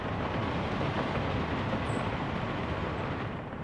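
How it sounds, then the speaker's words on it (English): A locomotive-hauled train in the video game Workers & Resources: Soviet Republic rumbles along in a loud, steady wash of rolling wheel and engine noise with no voices. "A locomotive is overkill."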